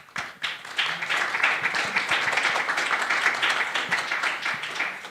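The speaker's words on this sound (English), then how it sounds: "If you had not clapped, I would have asked you to." A conference audience at the Connecting EU 2023 event bursts into sustained applause, dense even clapping that starts abruptly and carries on loudly for several seconds without any voice over it.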